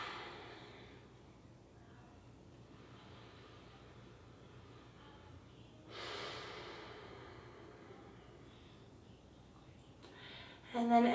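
Slow, soft breaths during a vinyasa yoga practice, quiet and steady with a fuller exhale partway through, ending in a brief louder rustle.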